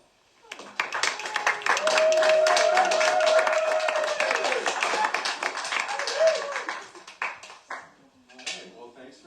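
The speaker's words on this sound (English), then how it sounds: "You can give him a big round of applause." An audience at a book launch for a novel claps in sustained, dense applause that swells, then tapers off into scattered claps, with voices and a whistle over it.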